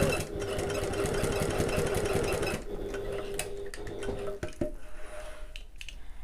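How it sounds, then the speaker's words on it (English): Sewing machine running a long basting stitch across the turning gap of a fabric bag, a rapid steady whirring for about two and a half seconds, then quieter handling noises and light clicks. "I'm going to increase to my basting stitch length and stitch across the turning gap"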